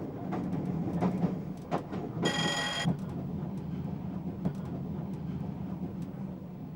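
Train in 1991 pulling into Tulse Hill station on the London Bridge to Selhurst line, a steady rolling rumble with scattered rail clicks and a brief tonal whine or squeal partway through.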